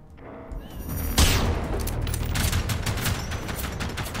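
Rapid gunfire from a hostile robot mech in the video game Generation Zero, a loud sustained burst of shots that kicks in abruptly and keeps rattling on with dense, close, crackling reports.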